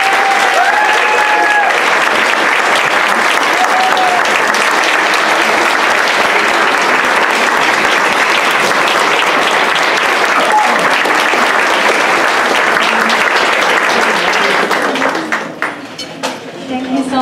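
Sustained applause from a gala audience welcoming a speaker to the podium, a dense, loud, steady wash of clapping that fades out near the end.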